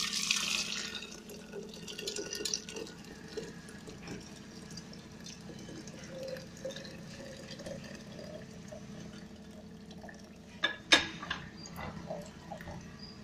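Boiled mango water strained out of a pressure cooker, a soft, steady trickle and pour of liquid with a few clinks of metal near the end, fairly faint and without talk.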